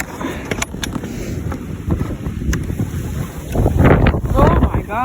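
Strong blizzard wind blows snow around near a hen coop, loud buffeting gusts that strike the microphone and build toward the end, with a voice briefly heard.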